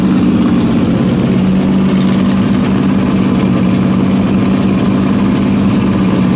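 A 1967 Ford LTD with a 390 FE V8 running after a cold start following twelve years of sitting, a loud steady rumbling idle held close and unbroken throughout, with no talk.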